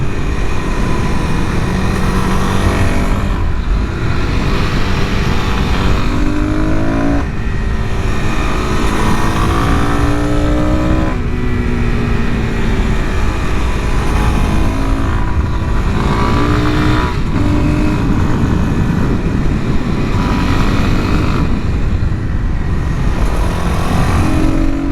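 A Suzuki DRZ400SM supermoto with an air box mod being ridden: a loud, steady single-cylinder engine drone with rising and falling revs throughout, heard up close.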